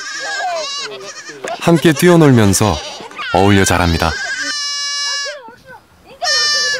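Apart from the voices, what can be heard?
goats bleating, young goats on a Mongolian nomad farm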